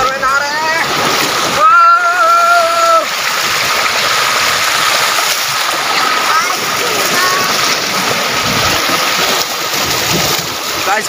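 People bathe and splash in river water, with continuous sloshing and splashing close by, a burst of heavier splashing early on, and voices talking and calling over the water throughout.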